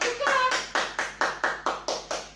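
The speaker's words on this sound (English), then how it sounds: "let's begin the game with a clap. All of you clap." Children clap together in a classroom to start a memory game, seven sharp, evenly spaced claps in a steady rhythm, with a brief voice at the very start.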